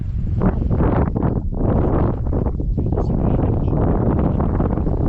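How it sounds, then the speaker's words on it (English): Strong gusts of wind buffet the microphone over a plowed field near Moose Mountain Lake, a loud rumbling roar that surges and dips over several seconds. "it's a bit windy"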